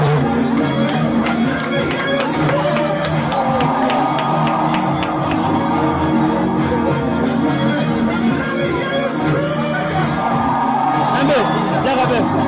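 Wedding guests cheer, whoop and shout at an evening reception, a loud, continuous crowd din with scattered bangs and voices mixed through it.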